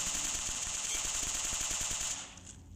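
Rapid automatic gunfire in a shooter video game, a sustained burst of closely spaced shots that stops abruptly near the end, leaving a faint tail, no voices.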